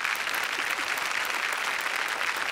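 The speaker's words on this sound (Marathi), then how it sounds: "जोरदार टाळ्या." Studio audience of a TV comedy show applauding, a dense steady wash of clapping hands that fills the whole stretch without pause.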